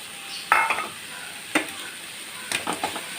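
Spinach and jackfruit seeds stirred in a pan, with a few distinct scraping clatters of the spoon against the pan amid a soft sizzle, close by.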